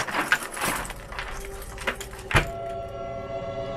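A set of keys jangles and clinks close by in a few bright metallic rattles, ending with a sharper knock, followed by a steady low background hum.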